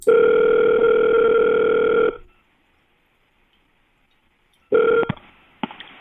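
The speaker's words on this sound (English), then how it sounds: "Dialing customer." A steady telephone tone holds for about two seconds, falls silent, then returns briefly followed by a couple of sharp clicks.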